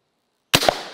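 A gunshot fired at a bulletproof backpack cracks sharply out of silence, with a second quick impact right after and a short ringing decay, loud and close.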